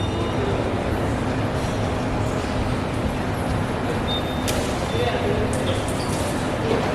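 A train rolls past at a Korean railway station, a continuous loud broadband rumble and rush that holds steady throughout, with faint higher squeals and clatter mixed in.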